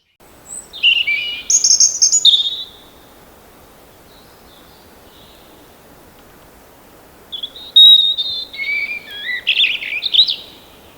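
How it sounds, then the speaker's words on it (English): A robin sings its spring song on a UK smallholding, two bursts of high, thin warbling phrases separated by a quiet pause, clear and fairly close over faint background hiss. "That's the robin."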